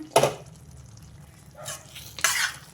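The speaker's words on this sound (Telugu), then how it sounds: "ఒకసారి కూర కలిపేసుకుందాం" Spoon stirring chicken gongura curry in a pan, a few short wet scraping strokes with quiet gaps between them, close and fairly clear.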